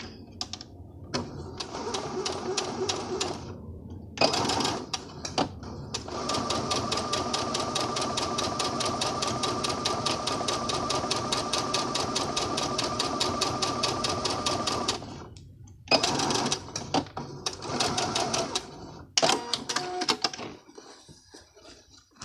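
Sewing machine stitching boning into a scalloped-waist skirt, running in long steady bursts with short pauses between, close and loud with no talking.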